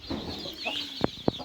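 Hens that have been brooding clutches of eggs give soft, low murmurs, then two short, sharp clucks close by in quick succession.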